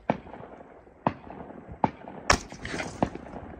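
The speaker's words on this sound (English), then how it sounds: "we're going to go ahead and take a couple shots, guys" Sharp outdoor gunshots from a 300 Blackout rifle, several distinct cracks spaced about a second apart, with a brighter, louder report in the middle amid light background noise.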